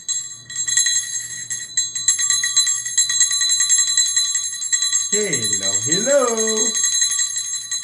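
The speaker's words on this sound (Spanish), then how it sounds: "padre, ¿por qué usas las campanas?" A priest rings small bells at the start of a Mass, producing a steady bright ringing with sustained metallic overtones throughout, while someone speaks over it, his voice rising and falling near the end.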